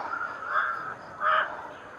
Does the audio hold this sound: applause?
no